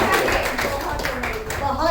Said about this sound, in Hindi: एक जोरदार तालियां होनी चाहिए। बहुत जोरदार